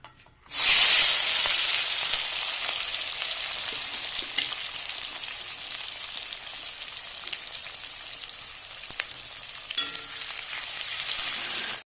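Onion drops into hot oil with a sudden loud burst of sizzling while cooking for a young jackfruit mutton curry. The hiss then settles into a steady crackle with occasional pops, and no one speaks.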